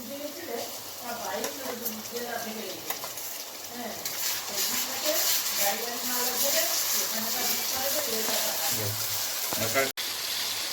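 Onions frying in a pan with garlic and ginger paste for Bengali chicken biryani, a steady close sizzle with stirring scrapes, under a voice talking throughout.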